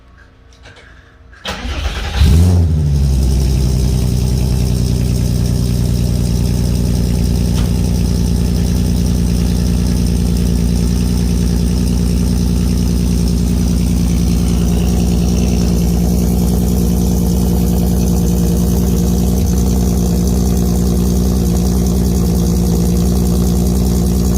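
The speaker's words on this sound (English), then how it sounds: "Let's see what a cold start sounds like." A MK1 car with a swapped 3.6 VR6 engine and a 3-inch exhaust fires up from cold after a brief crank, then settles into a loud, steady, deep idle that runs on alone for over twenty seconds.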